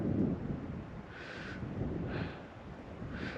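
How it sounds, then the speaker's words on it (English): Wind gusting outdoors on an open hillside during a mule deer hunt, a steady rushing roar with buffeting against the microphone that swells and eases in slow waves. "the wind has changed directions on me"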